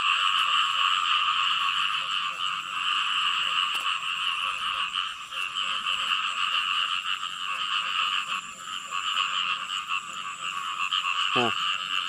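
Frogs croak in a dense, continuous chorus outdoors in rural fields, loud and unbroken throughout with a rhythmic pulsing texture.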